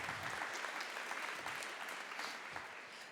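An audience at a PyData Amsterdam 2024 lightning talks session claps steadily after a correct quiz answer, a sustained, moderately loud wash of applause heard from within the room.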